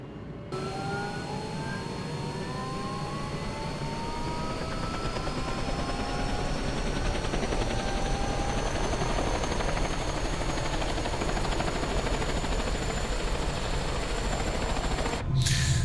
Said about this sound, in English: some lovely thwacking sounds going on there